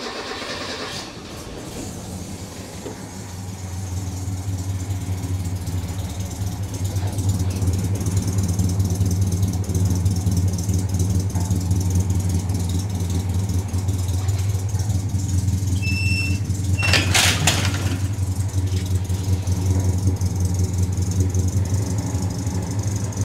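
A lowered mini truck on air suspension starts and settles into a steady idle, a low continuous engine rumble holding evenly for about twenty seconds with a brief rattle or clatter partway through, no talk.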